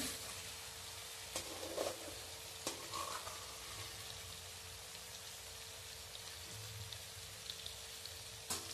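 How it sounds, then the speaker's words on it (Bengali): A spice paste frying in oil while being stirred for a chicken curry, a faint, even crackle like light rain, punctuated by a few sharp spatula knocks against the pan, with nobody speaking. "এই মশলাটা কষাতে কষাতে দেখছি একটা সুন্দর অ্যারোমা বেরোচ্ছে"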